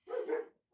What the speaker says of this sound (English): And if you hear dogs barking, I'm sorry about that.